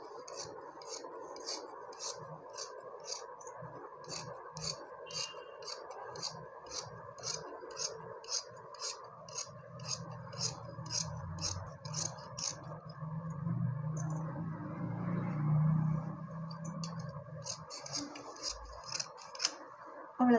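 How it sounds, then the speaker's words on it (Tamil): Metal scissors snipping through saree fabric while cutting a maxi dress pattern, a steady run of crisp close-up snips in even rhythm. A quiet voice talks now and then underneath the cutting. "இந்த மாதிரி இங்கிட்டு கட் பண்ணியாச்சு."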